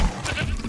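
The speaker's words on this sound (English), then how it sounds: "And it eats the goat whole." A goat in the Jurassic World Evolution 2 video game gives a short, strained bleat as a dinosaur swallows it whole, close and fairly loud over a low rumbling game background.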